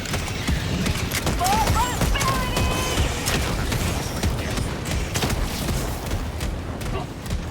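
Gunfire in the video game Helldivers 2, rapid bursts of shots and clattering mechanical impacts over a dense, loud battle din, with a voice briefly calling out.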